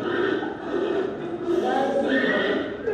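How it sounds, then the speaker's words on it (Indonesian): A horse whinnies across a three-second stretch, with rising and falling neighs and some clip-clop-like texture. The sound is loud and continuous. "Dari suara tadi sudah jelas kalau itu adalah suara kuda."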